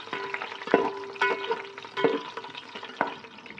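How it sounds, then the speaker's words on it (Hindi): Dry fruits frying in hot oil in a pan, with a soft continuous sizzle broken by several distinct stirring clatters at irregular intervals, fairly close and not loud. "ड्राई फ्रूट मैं फ्राई कर रही हूँ पहले ही ऑयल में"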